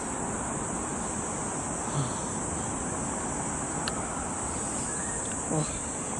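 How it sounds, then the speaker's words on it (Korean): Cicadas buzz in a continuous, high, shrill drone on a mountain summit, holding steady throughout, with a few faint distant chirps and rustles underneath. "매미 소리도 나고"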